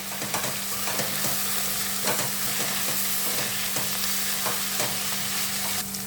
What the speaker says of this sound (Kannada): ಆನಿಯನ್ ಜೊತೆಗೇ ಚೆನ್ನಾಗಿ ತೊಳೆದಿಟ್ಕೊಂಡಿರೋ ಮೆಂತ್ಯ ಸೊಪ್ಪು ಹಾಕೋಣ. ಯಾಕಂದರೆ ಇದು ಸ್ವಲ್ಪ ಕ್ರಿಸ್ಪಿಯಾಗಿ ಫ್ರೈ ಆಗಬೇಕಲ್ವ